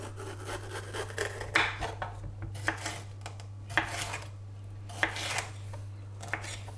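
A bell pepper being chopped on a cutting board, giving irregular knife taps and scrapes spread over several seconds, close but fairly quiet above a steady low electrical hum, no voices.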